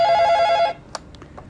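A telephone bell rings with a steady rapid trill for under a second, loud and close, then cuts off into quiet room noise with a faint click.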